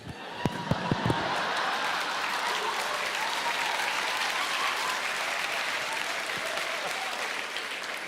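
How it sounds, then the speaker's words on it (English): Enthusiastic clapping from young audience members at a live comedy show, opening with a few sharp separate claps and swelling into steady, full applause. "Oh, look at these young people clapping."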